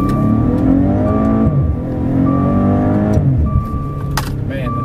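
A 2017 Maserati Ghibli sedan accelerating hard at full throttle, its engine rising loud and close through the gears with a brief shift dip, while a voice talks over it inside the cabin.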